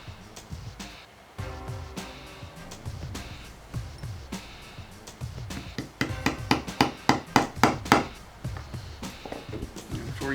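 Repeated hammer taps on parts during assembly of a Beretta U22 Neos pistol, light knocks at first, then a faster run of sharper, louder strikes near the end, close up, with no talk.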